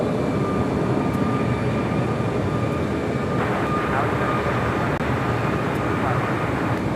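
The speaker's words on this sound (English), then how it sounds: "we got that United Dreamliner up next" A United Boeing 787 Dreamliner airliner at LAX gives a continuous, moderately loud jet engine rumble, with a faint voice under the noise.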